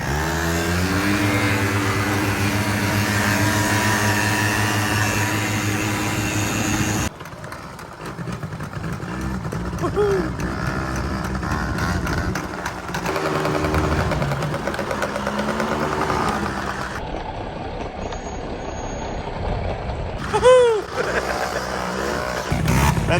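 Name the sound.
90cc ATV quad bikes racing from the start line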